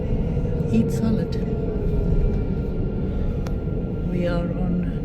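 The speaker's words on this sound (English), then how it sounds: "We are on tram B." Steady low rumble of a moving tram on Bordeaux's tram line B, with a constant mechanical drone and faint background voices and clanks.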